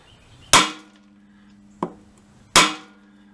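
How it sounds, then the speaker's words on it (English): Three hard hammer blows on a lawn mower's flywheel to knock it loose, Briggs & Stratton 6.5HP Intek engine, each a sharp ringing clang that quickly fades, spaced about a second apart with quiet between. "just have to center a hammer to get this off"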